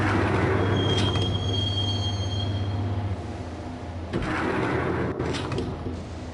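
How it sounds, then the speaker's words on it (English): Train cars from a video game rumble along the rails with a steady low drone, a faint high squeal early on and brief rattling bursts partway through, fairly loud and with no talking. "the train doors had already shut behind me, and I was in for the ride"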